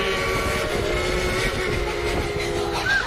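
The Dollywood Express steam train rolls along at Dollywood, a steady mechanical rumble and rattle of the cars with tonal whistle-like lines running throughout, heard from on board and without talk.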